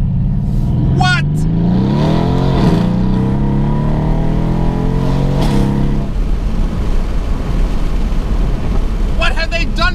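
A modified Mercedes-AMG C63 engine revs up and down loudly up close, with sharp crackling exhaust pops at the start and end while people talk over it.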